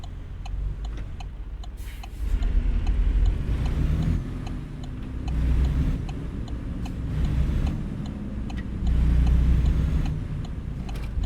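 Freightliner day cab truck with a 10-speed automatic gearbox, heard from inside the cab while driving: a steady low engine and road rumble that swells and eases in turns, with a faint repeating tick from the cab.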